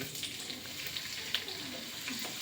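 Chopped onion and green chillies fry in a hot pan, giving a steady, close crackling sizzle that runs the whole time with a few small spattering pops and no talk.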